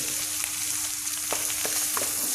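Bitter gourd slices fry in oil in a pan for a pickle, giving a steady close sizzle broken by a few sharp scrapes and clicks of stirring, with no voices.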